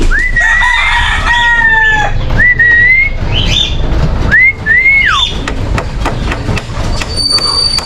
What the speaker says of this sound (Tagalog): Nag-iingay yung yung ating ibon na yun sa taas.